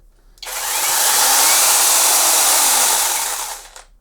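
A Leader 20V cordless chainsaw with a 10-inch bar starts with a soft start, ramping up to a loud, steady motor whine that holds for about three seconds before winding down.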